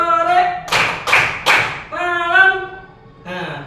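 Children in a classroom clapping game clap in quick bursts of three sharp claps between sung or chanted voices, lively and close.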